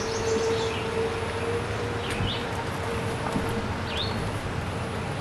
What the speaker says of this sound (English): It's nice to hear the birds.